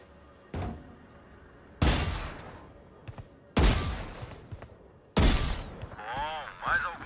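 Gunfire aimed at practice bots in the Valorant tutorial range: four loud, sharp shots or short bursts spaced roughly a second and a half apart, with a warbling electronic effect trailing the last one and no talk.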